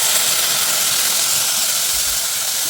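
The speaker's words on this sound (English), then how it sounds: "we're at a good point now where we can slowly add our rosé wine" Rosé wine poured into a hot pan for oxtail stew, producing a loud, steady sizzling hiss that stays constant throughout with no voices.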